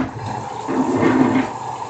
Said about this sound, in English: And once you block those and flush it,